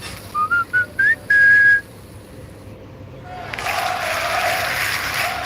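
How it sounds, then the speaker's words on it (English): A short whistled advert jingle of rising notes ends on a held tone, followed by a pause and then a swell of bright, noisy crowd-like sound, during a cricket Test broadcast. "Right, here comes the jingle."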